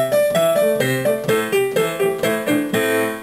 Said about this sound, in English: the minor pentatonic scale, and all we have to do actually is turn it into A